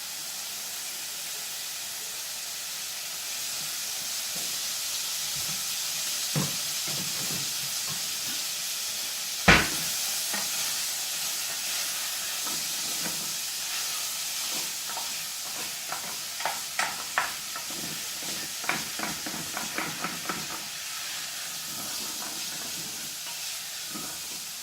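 Sausage and bacon frying in oil give a steady hiss and sizzle, with sharp pops and spits of fat bursting through now and then, close by and without talk.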